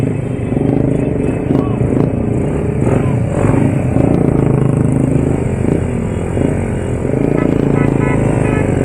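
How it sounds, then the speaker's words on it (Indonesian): Loud motorcycle engines roar and rumble continuously nearby, with steady revving and clattering road noise throughout. "Bahkan dari jauh aja motornya emang berisik banget,"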